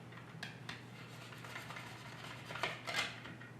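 A long sharp knife slices red seedless grapes in half on a board, with soft, faint taps and a couple of clearer knife strikes near the end over a steady low hum.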